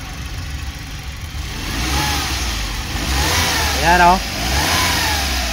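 A Suzuki DA64W with K6A turbo engine revs up from idle in a couple of rising surges, the engine close and steady, with someone talking briefly over it.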